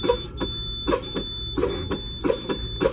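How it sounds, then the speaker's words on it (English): A steady high-pitched truck low air pressure warning buzzer sounds continuously over a rumbling idling engine, with rhythmic hissing bursts repeating roughly every half second, air pressure fanned down to about 60 PSI. "my low pressure warning light and my buzzer are working. You can hear the buzzer."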